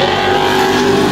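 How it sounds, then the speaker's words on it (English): Pro racing trucks roar around an oval track in a steady, loud, continuous engine drone, several engines blending at close range with no break. "Good clean racing now out of turn 2."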